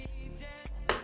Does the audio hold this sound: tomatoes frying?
yes